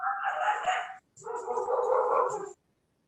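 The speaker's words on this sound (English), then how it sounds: "Do you hear all my dogs howling?" Several dogs nearby howl and bark in two long, loud bursts with a short gap between them, then fall silent.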